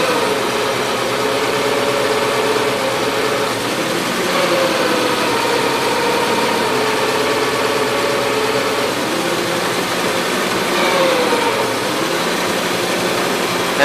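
A 1977 Gravely GMT 900 tractor engine idles steadily and close by, a continuous low rumble with a faint knocking vibration and no talk over it.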